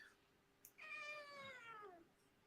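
A cat gives one drawn-out meow that rises and then slides downward over about a second, close and clear against a quiet room, with no one talking.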